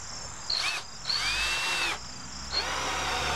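Cordless power drill driving screws into wood on an equatorial platform build: three close whirring bursts with rising motor pitch, the middle one longest, separated by short pauses, with no talk.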